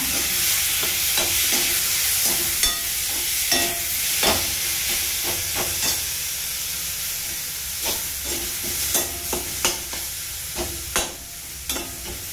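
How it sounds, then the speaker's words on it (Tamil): Tomatoes with turmeric sauté in a pan on a stove for a capsicum paneer dry dish, a loud steady sizzle punctuated by frequent spoon stirs and scrapes. "கொஞ்சம் வதங்கினே தக்காளி போட்டுருங்க"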